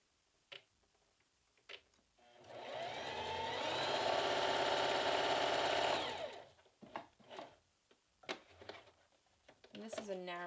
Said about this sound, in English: So we'll run a couple stitches on this and see how it behaves.